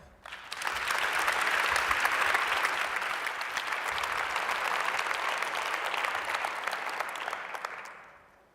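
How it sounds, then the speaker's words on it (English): Audience applause at a Helsinki Challenge pitch night for speaker Mikko Särelä, a dense burst of clapping that rises quickly, holds steady for several seconds and fades out near the end. "Give a warm round of applause to Mikko Särelä."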